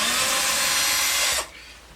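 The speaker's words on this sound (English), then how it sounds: "give me my electric screwdriver" An electric screwdriver whirs loudly and steadily for over a second, then cuts off abruptly and spins down, heard close up while a guitar is worked on.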